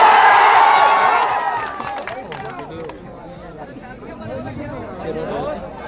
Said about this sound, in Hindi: ताली बजा के आशीर्वाद दे दिए